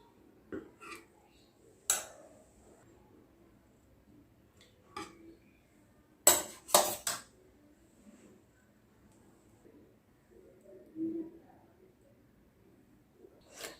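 Plates and serving utensils clink while vegetarian raw-banana kofta curry is served onto a plate: a handful of sharp, separate taps and clatters spaced across a quiet background, with a brief cluster of louder knocks midway.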